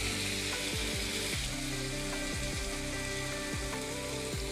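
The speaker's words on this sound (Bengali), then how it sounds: "এবার একটু ভালো করে নাড়ব, একটু টমেটোগুলো নরম হোক" Tomatoes fry in a pan for egg tarka dal, giving a loud, steady sizzle throughout, with repeated scraping strokes of a spoon stirring them.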